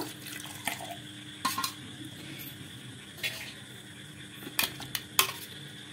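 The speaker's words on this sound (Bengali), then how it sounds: "এবার এই বাটিতে জল দিয়ে এখানে জল দিয়ে দেব" Soft splashing of water being poured, mixed with a few sharp clinks of dishes and utensils in a quiet kitchen, with no voices.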